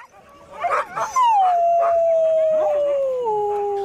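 Sled dogs gathered before a race start yip and bark, then one dog lets out a long, loud, close howl that slowly falls in pitch while other dogs continue faintly beneath it.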